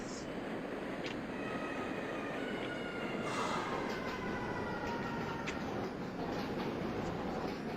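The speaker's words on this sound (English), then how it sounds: "Brooklyn-bound C local train" Brooklyn-bound NYC subway C local train with car 179 in the OpenBVE simulator, a steady loud rumble of the moving train with faint tonal whines throughout.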